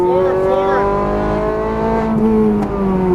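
A Ferrari F430 Scuderia on a racetrack accelerates at full throttle, its engine note rising loud and close in a continuous howling rev, with a brief dip near the end.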